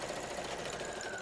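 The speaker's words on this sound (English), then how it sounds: "So I'm going to sew one side" A sewing machine runs steadily, stitching a quilt block with a rapid, even mechanical whir, close and moderately loud, with no talking.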